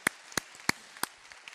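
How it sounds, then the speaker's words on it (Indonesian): Hand claps in a church: four sharp, evenly spaced claps at a slow, steady beat, followed by a few fainter ones, with no talking. "mari tepuk tangan yang paling meriah"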